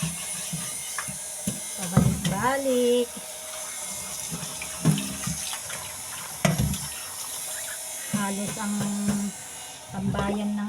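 Water runs from a kitchen sink tap while leftover pots and dishes are washed, a steady splashing flow under intermittent talking voices.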